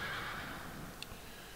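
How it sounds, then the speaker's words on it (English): A horse in a video game gives a single whinny near the start, fairly loud over a steady background hum, followed by a faint click. "I'm going to turn some of those sound effects down because that horse is annoying as shit"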